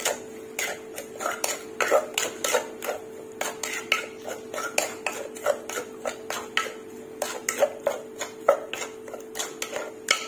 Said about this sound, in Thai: เอาละค่ะคนทีนี